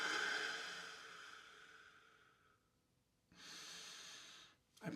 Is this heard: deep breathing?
yes